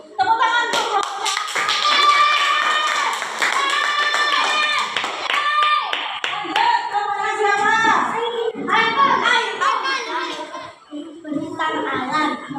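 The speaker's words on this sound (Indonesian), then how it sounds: "Tepuk tangan untuk kelompoknya." Schoolchildren in an Indonesian classroom clap together for a group, a steady burst of close, fairly loud clapping with lively children's voices and chatter running through it.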